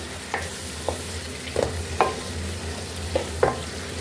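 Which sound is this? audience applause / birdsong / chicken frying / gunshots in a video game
chicken frying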